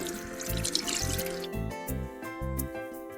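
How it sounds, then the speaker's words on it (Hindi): Tap water runs over hands being wetted at a sink for handwashing, a steady splashing wash over the first half that gives way to louder rhythmic background music with a pulsing beat. "पहले नल खोलो। अब पानी से अपने हाथ गीले करो।"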